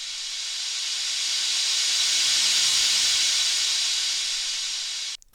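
A reversed whoosh swells steadily from quiet to a loud airy hiss, then cuts off abruptly at the end, like a rising transition effect.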